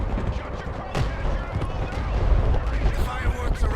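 Mortar artillery barrage in the video game Broken Arrow, dense rumbling impacts and booms rolling continuously and loudly over a few seconds with some background voice.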